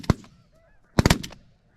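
Snow geese honk overhead while migrating on a hot, windy day, giving a few loud, sharp honks in quick clusters with brief quiet between them, and no talk.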